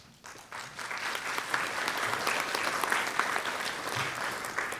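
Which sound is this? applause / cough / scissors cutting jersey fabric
applause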